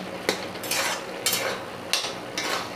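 Fish and ash gourd fry on a low flame with ginger in the pan, a soft continuous sizzle broken by four or five sharp scraping stirs spaced roughly half a second apart, heard up close.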